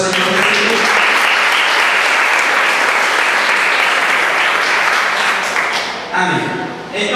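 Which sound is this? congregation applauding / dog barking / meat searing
congregation applauding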